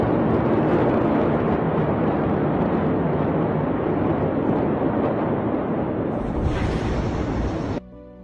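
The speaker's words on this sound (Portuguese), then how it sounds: "Essa imensa explosão aconteceu por este depósito aqui." The massive 2020 Beirut port explosion, caused by stored ammonium nitrate, comes through as a loud, sustained, distant-sounding rumbling roar that holds steady and then cuts off abruptly near the end.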